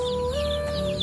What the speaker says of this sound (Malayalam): പിന്നെ ഈ കോഴി